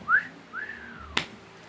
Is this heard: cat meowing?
no